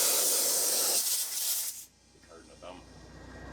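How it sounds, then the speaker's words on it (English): WD-40 lubricant sprayed into a valve on a 48-ft flatbed trailer gives a loud, steady hiss for almost two seconds, then cuts off, leaving quieter shop background. "put some WD-40 in it"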